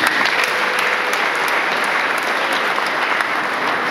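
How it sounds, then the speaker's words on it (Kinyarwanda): A church congregation claps loudly and continuously, dense sustained applause filling the space without pause and with no speech over it. "mwigomera amashyi rwose"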